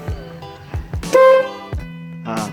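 A newly installed snail-type horn on a car gives short, bright, loud blasts, one held for a moment, separated by low thumps and clicks, close by with no voices.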